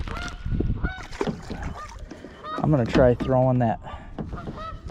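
Canada geese honk near their nests beside a spring bass-fishing bay, a run of loud, close, harmonic calls mostly in the middle stretch, with someone talking over and between them.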